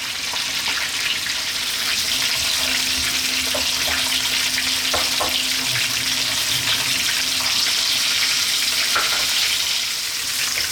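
A whole tilapia fries in a pan, giving a loud, steady, crackling sizzle with small pops throughout and no talking.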